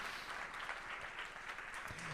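Congregation applauding the Lord during a church service, a steady wash of clapping at moderate level, fairly distant and diffuse, with faint voices mixed underneath.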